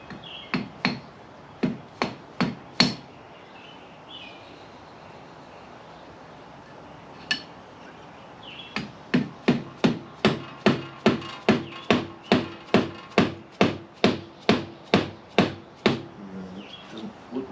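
A hammer taps a JB-welded engine part into place: a few sharp metallic strikes, a pause, then a long steady run of evenly spaced, ringing taps, close and loud, with no talk.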